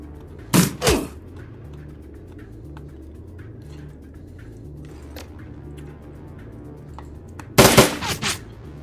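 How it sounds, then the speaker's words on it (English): Burst-fire gunshots in the video game Shadowrun Returns Dragonfall: two sharp, rapid bursts, one near the start and one near the end, over a low steady game background hum. "Let's do some burst fire."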